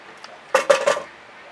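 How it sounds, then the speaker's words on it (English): A palette spatula is wiped along the edges of a canvas during acrylic pouring, giving three quick close scraping strokes in rapid succession, then quiet. "I'm just gonna wipe off my spatula on the edges of the canvas"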